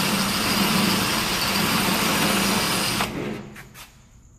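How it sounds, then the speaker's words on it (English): Power drill enlarging a hole while a hidden-shackle steel padlock is being installed, a loud steady whine running continuously for about three seconds before it winds down and stops. "I will just use the drill"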